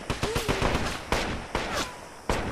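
Gunfire in the Wolfenstein (2009) shooter game: sharp, close shots in quick irregular bursts, then a few isolated cracks spaced apart, with little else around them.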